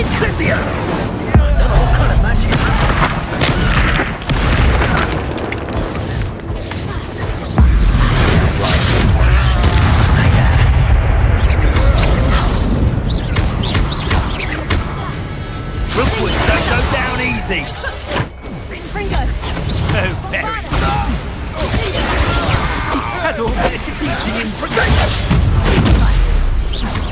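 Loud Incendio fire-spell blasts in Hogwarts Legacy hit amid a chaotic wizard duel: repeated booms, whooshes and crashes over about half a minute, mixed with shouted character dialogue and combat noise.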